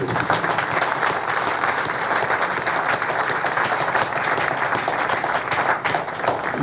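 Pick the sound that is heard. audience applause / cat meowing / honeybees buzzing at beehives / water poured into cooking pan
audience applause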